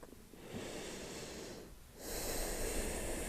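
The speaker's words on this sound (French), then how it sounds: "Une dernière respiration complète." A deep, full breath during a Hatha yoga flow: a soft, airy inhale followed by a louder, steadier exhale that continues to the end, close and without talk.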